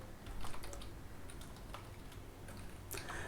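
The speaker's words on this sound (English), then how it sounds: "So I'll just type that in" Keystrokes on a computer keyboard while a link is entered into a WordPress page, a quick steady patter of small clicks with a few louder taps, close and fairly quiet, no talking.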